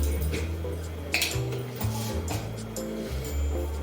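A utensil stirs food in a pot, scraping and clinking against the metal in a few quick, close knocks and rattles, with no voices.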